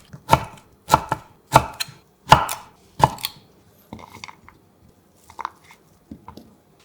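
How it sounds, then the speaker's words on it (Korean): A knife cuts fish cake on a cutting board with five crisp, evenly spaced chops, followed by a few softer, scattered taps, close and clear with no speech. "어묵 150g은 먹기 적당한 크기로 잘라 준비했습니다."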